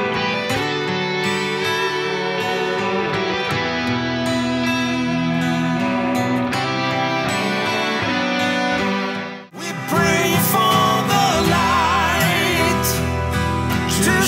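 Acoustic guitar is played, strummed and picked chords ringing out full and steady within a dense band mix, dropping out briefly before a bright, busy passage resumes.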